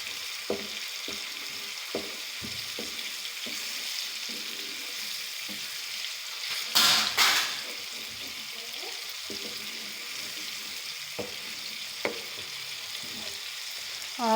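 Masala sizzles in a pan for dhaba-style black masoor dal, a soft continuous crackle broken by occasional stirring scrapes and one louder clatter midway, fairly faint and with no talk.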